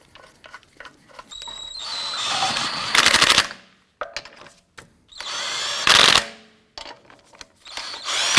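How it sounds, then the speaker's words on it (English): A power tool snugs down the wheel lug nuts on a 2004–2008 Acura TL. Two short, loud whirring bursts stand out, with clicks and metallic handling noises between them in a garage setting. "Get our lug nuts all started by hand first, and then we'll snug those down."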